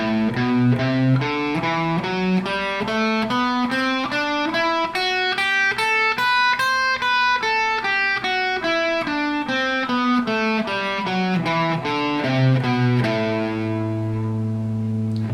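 A clean electric guitar plays the A Dorian scale in thirds, a steady run of paired notes climbing up and back down, with a light effected shimmer, ending on a sustained low note.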